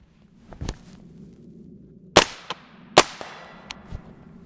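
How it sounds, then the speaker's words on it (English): Two sharp gunshots from an Inter Ordnance AR-15 rifle, the last rounds from an ETS magazine, crack out about a second apart, close and loud, with fainter echoing reports and clicks around them. "Let's see if we can get the remaining 2 rounds out of the other ETS mag."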